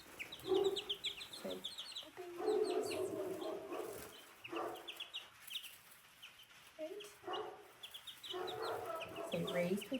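Young chickens in a hatcher cluck and peep in a busy, irregular chorus of short calls close by, with a voice speaking briefly among them.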